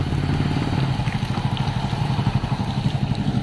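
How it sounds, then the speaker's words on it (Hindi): Motorcycle engine running steadily with a low, pulsing rumble throughout, close by, with no voices over it. "अरे ले मैं चला लेता हूं बाइक"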